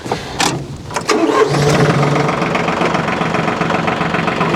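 A tractor engine cranks and catches, then settles into a loud, steady running rumble close by.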